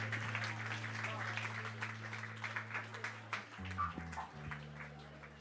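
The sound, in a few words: audience applause at award ceremony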